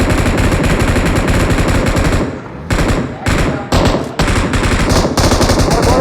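Rapid automatic gunfire from a co-op video game, loud and nearly continuous, broken by a few brief pauses before the bursts resume.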